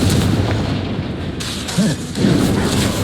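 Spell explosions boom and burst one after another in Hogwarts Legacy combat as a Confringo spell goes off amid fighting noise. Rumbling low impacts come close and loud.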